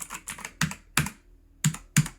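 Clacky keystrokes on an Aukey KM-G12 mechanical keyboard with Cherry Blue switches: six or so sharp, separate presses at an uneven pace, close and crisp, with quiet gaps between them.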